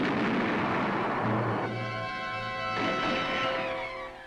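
A World War II army cannon fires shells loaded with food and medicine across enemy lines, giving a heavy, rumbling blast that rolls on and fades, with sustained musical tones sounding underneath.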